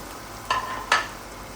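Taro root and potato pieces hit a hot oiled pan for arvi aloo, giving two quick, close sizzling bursts over a low background hiss.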